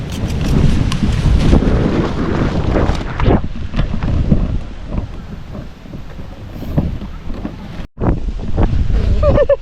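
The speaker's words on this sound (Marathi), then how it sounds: "पाऊस आला हा बघा जोरदार." Heavy rain and a violent wind storm in rural Konkan lash the microphone with loud roaring gusts and buffeting, a rushing broadband wash that surges and eases, with a brief dropout near the end.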